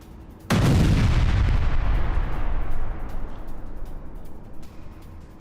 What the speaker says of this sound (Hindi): तेहरान के कई इलाकों में आसमानी धमाकों से कोहराम